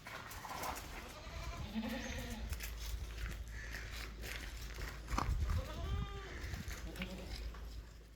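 A Sirohi cross goat, a 23 kg doe with a little milk after her first kidding, bleats several times at a farm sale, with livestock noise and some background sound throughout.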